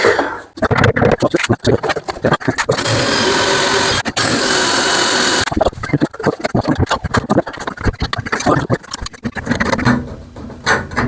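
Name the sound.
electric drill drilling holes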